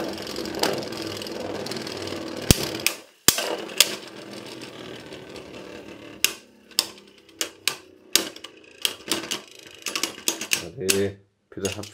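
Beyblade Burst spinning tops, Dynamite Belial and Cho-Z Achilles, launched into a stadium and battling, giving sharp clacking collisions and rattling spins that build into a run of distinct impacts, with someone talking over much of it.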